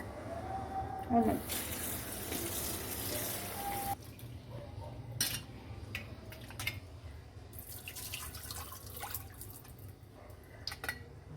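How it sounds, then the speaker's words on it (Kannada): Cut pieces of raw jackfruit being washed in water, with a steady wash of running and splashing water that runs loud at first and then eases into softer drips and sloshing over a continuous low hum. "ಇದನ್ನು ವಾಶ್ ಮಾಡ್ಕೊಳ್ತೀವಿ"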